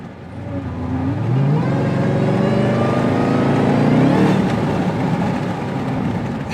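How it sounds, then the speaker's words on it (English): Supercharged Jeep Grand Cherokee Trackhawk accelerating with the window cracked, a rising supercharger whine leading into loud exhaust roar that climbs in pitch, close and steady throughout. "You'll hear the supercharger before the exhaust."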